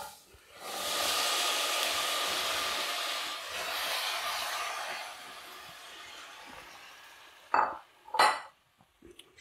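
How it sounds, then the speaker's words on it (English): Pear and cider vinegar mix poured into a hot pan for spiced pear chutney, a loud broad hiss that swells, dips and fades over several seconds, followed by a few sharp clinks of utensils against the pan. "So now just pop in that pear and cider mix."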